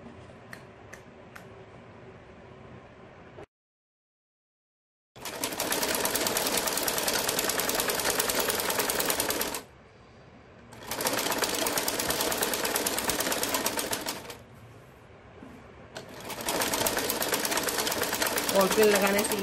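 A home sewing machine joins a second panel onto a salwar in three long, steady runs of fast whirring stitching, each separated by a brief pause, close and loud.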